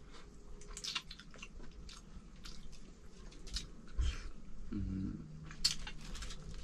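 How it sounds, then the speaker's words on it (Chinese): Raw red onion and raw chili being chewed up close, soft wet crunching and biting sounds scattered over a faint steady background hum, with no talking. "生洋葱和生的辣椒，我尝一口来看看。"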